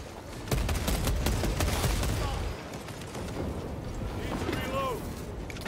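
Rapid bursts of gunfire in Warhammer 40K Space Marine 2 rattle loudly for a couple of seconds, then thin into scattered shots under background game sounds and voices.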